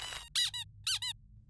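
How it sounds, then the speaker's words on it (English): A squeaky rubber ball toy gives a quick series of sharp, bright squeaks in pairs, close and clear over a faint low hum. "who wants a super duper squeaky ball"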